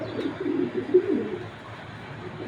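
A big light-colored female Sobji pigeon coos softly and low, a short murmuring call close by with no other voices.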